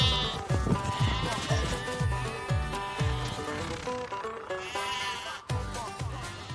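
A grey-faced mule sheep bleats repeatedly and close by, loud wavering calls over a rhythm of regular low thumps.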